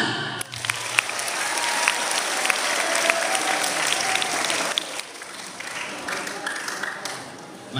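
A crowd at an Isra and Mi'raj commemoration in an Indonesian Islamic primary school breaks into steady, dense applause that holds for several seconds, close and lively, with a brief dip before building again.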